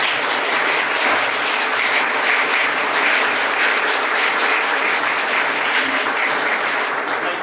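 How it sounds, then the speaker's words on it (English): Sustained audience applause at a parliament ceremony honouring a world champion New Zealand school debating team, loud, dense and steady throughout without pause, with no talk heard over it. "Certainly deserve a clap."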